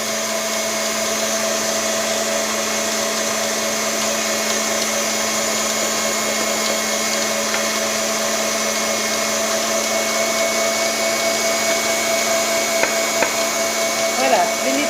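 An electric mixer whips egg whites with sugar for a Savoy sponge cake batter, a steady, unbroken motor whine with a faint rattle that holds at an even level for the whole stretch.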